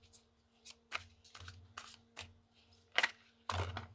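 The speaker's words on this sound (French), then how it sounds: "Je vais remélanger un tout petit peu" Oracle cards being shuffled by hand at close range: a quiet series of soft swishing and flicking bursts, a few louder near the end, over a faint low hum.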